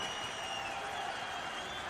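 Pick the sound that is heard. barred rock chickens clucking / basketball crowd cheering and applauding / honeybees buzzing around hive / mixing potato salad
basketball crowd cheering and applauding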